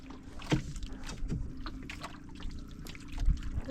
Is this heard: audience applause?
no